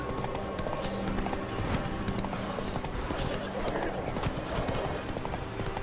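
Horse hooves galloping in the video game The Witcher 3: a rapid, steady clip-clop rhythm throughout, mixed with voices and background game sound.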